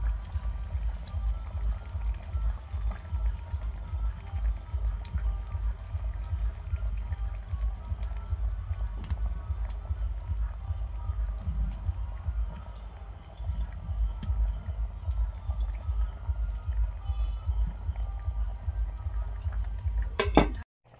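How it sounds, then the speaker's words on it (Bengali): Gravy bubbles at a steady rolling boil in a pan, a low continuous simmering burble with faint clinks, before stuffed pointed gourds go in near the end. "গ্রেভিটা ফুটে গেছে"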